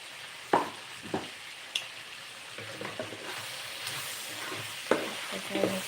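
Tamarind, coriander and other moringa leaf chutney ingredients fry on a low flame, a quiet, steady sizzle broken by a few spaced stirring knocks and scrapes, with no speech.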